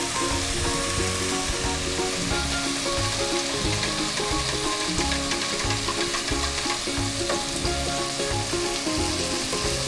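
Coriander and cumin spices sauté in a pan, making a steady, close sizzle with light stirring scrapes that run unbroken and fairly loud for the whole stretch, with tonal background music underneath and no talking.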